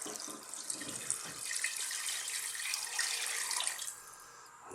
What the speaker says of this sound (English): we're going to add water